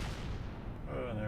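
A single gunshot blast opens with a broad burst that decays into a rumbling tail, moderately loud and close, with no voices.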